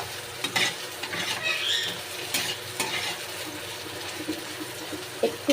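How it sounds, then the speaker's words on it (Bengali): Soybean chunks fry and get stirred in a pan, giving a soft continuous sizzle broken by scraping stir strokes and occasional small pops, close and fairly quiet. "সয়াবিনটাকে আমি বেশ কিছুক্ষণ ভেজে নিয়েছি"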